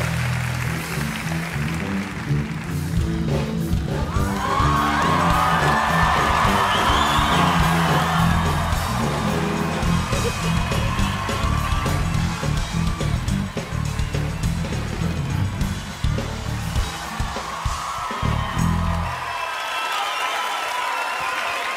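A studio audience at a Turkish television comedy show applauds and cheers loudly and continuously, with whoops and yells across the clapping before it fades near the end.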